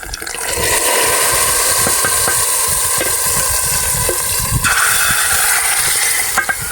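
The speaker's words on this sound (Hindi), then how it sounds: "अब तड़के को डालेंगे कड़ी में" Hot tempering of fried red chillies poured into kadhi, setting off a loud, steady sizzle and hiss that rises abruptly and keeps going close up for several seconds, with no talking.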